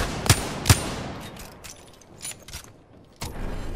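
Gunfire in Apex Legends: two sharp shots close together near the start, a few fainter pops in the middle and another burst near the end, set against game ambience.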